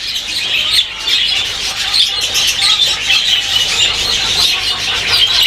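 Several pet birds in an aviary chirp and tweet continuously at close range, a dense overlapping chorus of high calls with no pauses.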